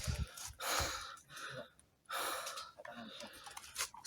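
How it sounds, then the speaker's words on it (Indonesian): Heavy panting breaths from a hiker descending a steep trail on Gunung Limo in Pacitan, close and loud, in uneven gasps with brief pauses between them. "Saya sudah kelihatan ngos-ngosan."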